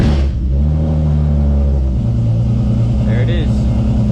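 A Nissan 350Z engine running close by, with a loud, steady low rumble and a brief rev partway through.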